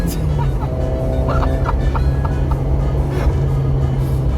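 A 1976 Fiat 128 3P with a single-cam engine revs steadily, a loud, continuous engine drone close by with a sustained low hum throughout, and faint voices in the background.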